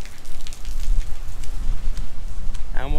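Heavy rain pours steadily during a brief Florida storm, a dense broadband hiss filling the whole stretch, with a short whistle-like tone near the end.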